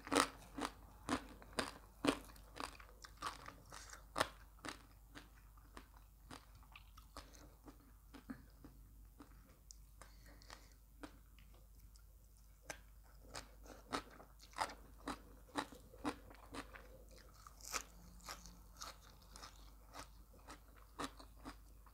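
Close-up eating of som tam papaya salad with crispy fried pork produces a run of sharp, crackling crunches and bites. They come in quick irregular bursts with wet chewing between them, quiet and close, with no talking.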